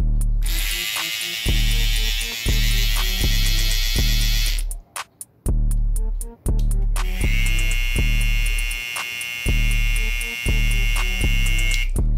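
Cordless hair clippers, a Wahl Heroes and a Babyliss Pro FX Skeleton, buzz loudly and steadily with a low motor hum, briefly cutting out before the second, harsher buzzing clipper starts up.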